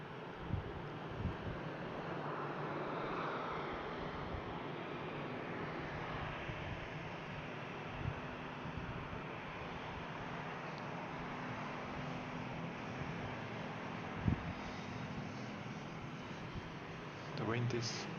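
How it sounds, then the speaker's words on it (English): Wind buffeting a microphone outdoors at Brussels Airport, a constant low rumbling roar with occasional bumps and thumps, with someone speaking faintly beneath it. "The wind is giving vibrations."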